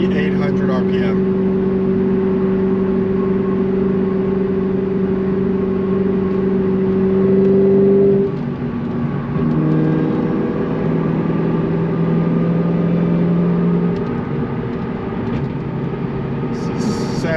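Cabin noise of an 800 HP Cobra car cruising at 60 mph around 2,800 RPM: a steady, loud engine and road drone with humming tones that shift partway through, with speech in the clip.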